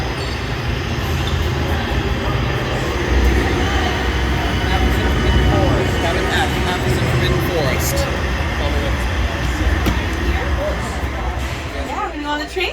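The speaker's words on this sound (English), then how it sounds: "We're on a train." A train ride at Universal Orlando heard from inside the carriage, a loud continuous rumble of wheels and running gear with occasional squeals, with people talking over it.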